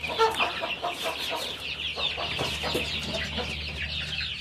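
Free-range chickens clucking in a farmyard, a steady chorus of overlapping clucks and squawks close by, with no talking.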